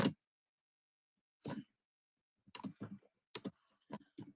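Computer keyboard typing comes through as scattered clicks and small clusters of keystrokes with silent gaps in between, close and fairly crisp.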